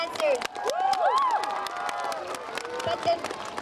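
A lively crowd at a lion dance performance claps and cheers, with sharp scattered claps and high excited shouts and whistles rising over the noise.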